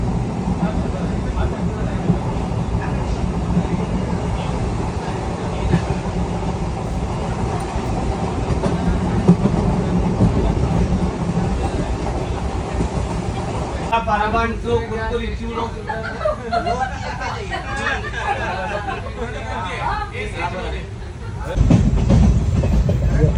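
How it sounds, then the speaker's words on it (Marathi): A steady, loud rumble of a moving train with rattling carriage noise continues throughout, shifting to a brighter clatter in the final seconds. "ट्रेन सुरू झालेली आहे."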